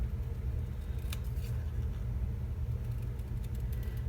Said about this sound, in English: So I'm gonna fussy cut that out